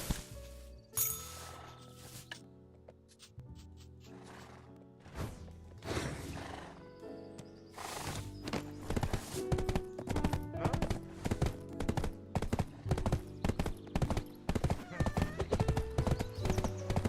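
Horses in the Black Desert Online video game, with repeated clip-clop hoofbeats growing into a steady, fast rhythm along with neighs and whinnies, set against game music and a talking voice.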